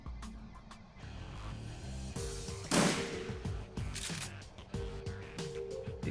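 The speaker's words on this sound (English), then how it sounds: "Out of ammo, so we're confirming a reload here, and we're gonna shoot again." Gunfire in Shadowrun Returns, a string of game gun reports with one loud blast near the middle, set against a steady droning musical background and low rumble.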